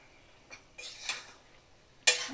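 A spatula clinks and scrapes against a pot as chicken is stirred over high flame for a thin potato-and-meat curry; three short, sharp metallic knocks come close and fairly quiet, with no voices.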